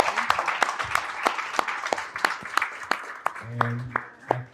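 An audience at a gallery event applauds with a scatter of distinct, sharp claps ringing in the room, fairly sparse and close, with a brief murmur of voices near the end.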